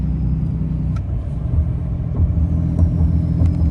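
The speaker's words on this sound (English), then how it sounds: "You hear that turbo brake hitting real hard now." A Ram truck with a Cummins 6.7L diesel engine slows on a downhill under its turbo brake, giving a loud, steady, close low droning rumble with faint intermittent clicks and a slight rise in intensity toward the end.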